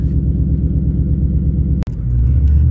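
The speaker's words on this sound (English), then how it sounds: "feel the car rumble" A deep, steady exhaust rumble from a C7 Corvette with a Corsa Xtreme exhaust throbs close by with a pulsing low burble, briefly cut by a sharp click before the rumble swells again.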